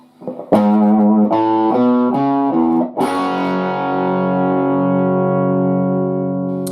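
Distorted electric guitar plays part of a song's riff: a quick run of separate picked notes, then a final chord that rings out and slowly decays, loud and solo.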